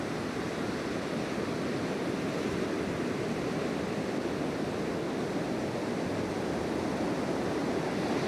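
Sea waves roll in at Apotiki Beach, New Zealand, where the sea runs down into a lagoon; a steady, unbroken wash of surf and wind fills the whole stretch at even loudness, with no voices.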